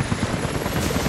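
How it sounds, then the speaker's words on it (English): Helicopter rotors approaching in the video game Rise of the Tomb Raider, a loud, steady thudding whir that fills the short moment with no speech. "helicopters are headed your way."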